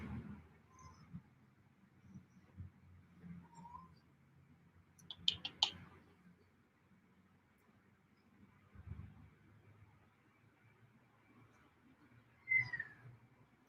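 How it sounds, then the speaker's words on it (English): A cat meows faintly a couple of times in an otherwise hushed room, with scattered soft clicks and small rustles between the calls. "that cat that's making a lot of noise."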